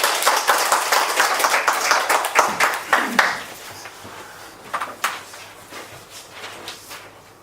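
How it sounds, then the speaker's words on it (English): Applause at a meeting as a speaker is welcomed: a loud burst of clapping that thins out into scattered, individual claps and taps over several seconds. "Please help me to welcome Toshimasa Hiroyuki with big applause."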